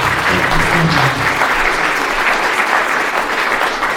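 A big round of applause from a lounge crowd at a live show, loud and continuous clapping with a low murmur underneath, steady across the whole stretch.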